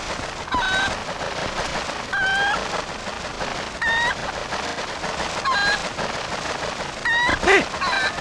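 Rooster clucks in Zelda: Twilight Princess, a series of short bright bursts repeating roughly every one to two seconds over steady game background ambience, with a louder squawk near the end; no talking.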